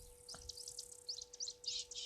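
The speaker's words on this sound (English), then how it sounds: "I believe, it's the call of a harrier hawk." A harrier hawk calling near a waterhole, a faint run of short high chirps repeated irregularly at a distance, with a steady low background hum.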